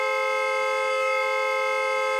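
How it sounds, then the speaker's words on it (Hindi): A single steady horn blares without a break, a loud continuous tone holding for the whole stretch. "कौन है ये नॉन स्टॉप हॉर्न बजा रहा है?"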